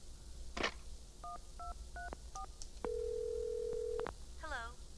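In the Clock Tower video game, a telephone is dialed with a series of short dual-tone keypad beeps, then a long steady tone, set against a low game hum with a voice speaking briefly.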